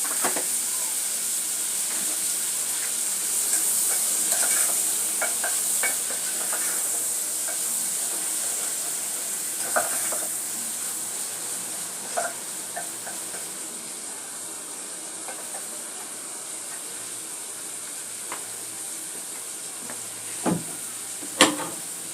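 Food sizzles and fries in hot oil in a pan while being stirred, a continuous bright hiss with occasional scrapes and a couple of sharper clacks near the end.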